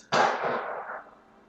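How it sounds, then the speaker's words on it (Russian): A single sharp gunshot bang outdoors on the street, fairly close, followed by a rolling echo that fades over about a second. "Стрельба на улице."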